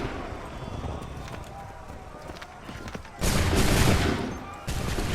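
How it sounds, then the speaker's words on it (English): Scattered battle noise and shouting voices in the Assassin's Creed III Remastered video game give way to a loud, sudden musket volley, followed by a second burst of massed fire. "Open fire."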